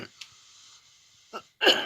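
A woman coughs just after waking up, a few short, sharp bursts separated by quiet, the last cough loudest and close to the microphone.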